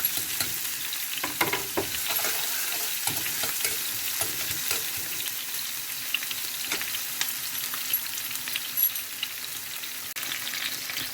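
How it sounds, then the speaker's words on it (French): Onions sizzling in hot oil in a pan, a steady bright crackle with occasional stirring scrapes and clicks, close and continuous, no voices. "Je mets mes oignons. Que je grille."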